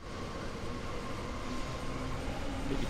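Intercity train departing a station in the Train Sim World 3 simulation, Rhein-Ruhr-Osten route, a steady rumbling rail drone with a faint high tone, continuous and even throughout with no voices.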